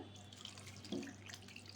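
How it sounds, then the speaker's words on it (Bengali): Water is poured into a pan of mixed vegetables for a simple vegetarian dish, making a short, soft trickle and splash, quiet and close, with no talk. "এখন আমি দিয়ে দিব পরিমাণ মতো পানি"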